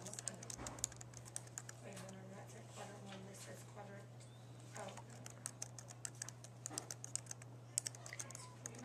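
Steady, quick typing on a computer keyboard, a run of soft clicks and taps that goes on almost the whole time under continuous talking, with a constant low hum behind it.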